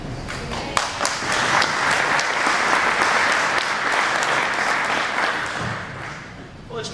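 A crowd at a union labor breakfast in a UAW hall claps enthusiastically: dense, continuous applause filling the room for several seconds, steady and fairly loud, fading slightly near the end.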